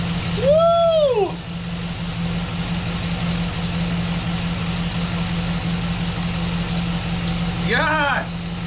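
V8 engine swapped into a Chevrolet Silverado truck idling with a steady low hum, while a person speaks briefly at the start and again near the end.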